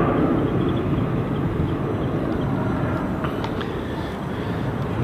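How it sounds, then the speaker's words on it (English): A fixed-wing passenger jet comes in to land at London City Airport, its engines producing a loud, steady broadband roar that fills the whole stretch without pause, heard from outdoors at moderate distance. "Another aircraft in about to land."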